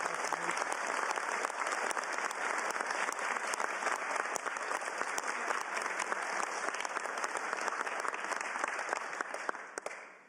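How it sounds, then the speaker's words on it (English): A large crowd applauds loudly and steadily for several seconds at a gun bill signing in Washington, the dense clapping tapering off at the very end. "how about a round of applause"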